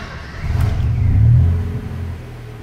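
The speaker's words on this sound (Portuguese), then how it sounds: "a gente vai descer o carro aqui e dar uma partidinha aqui para vocês ouvirem" A Ford Ka 1.0 with a newly fitted muffler rumbles from inside the car as its engine turns over and rises into a deep, loud low revving swell, then eases back toward idle, with no one talking.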